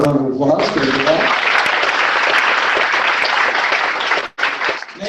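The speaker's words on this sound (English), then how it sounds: "Round of applause for that." An audience applauds loudly and steadily at a community night gathering, with a dense wash of clapping that holds for several seconds before briefly dipping and returning. A speaking voice is heard at the very start.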